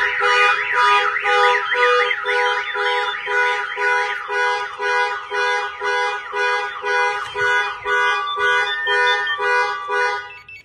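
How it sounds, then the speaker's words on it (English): A Dodge Durango Trackhawk's car alarm blares with a loud, repeating warbling siren pattern that shifts tone partway through, sounding continuously and close by with no voices over it. "I was pressing this factory key fob here and it cannot turn off the alarm"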